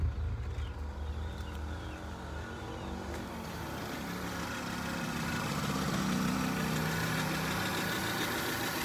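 A Kia Pride engine idles steadily with a smooth, even running note and no misfire, a continuous mid-level drone with no talk over it.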